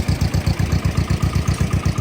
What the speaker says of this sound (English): To start it, we push this button in and it started!